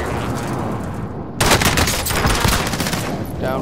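Rapid automatic gunfire in Call of Duty: Modern Warfare, a dense burst of loud shots starting abruptly and rattling on for about two seconds over continuous game ambience.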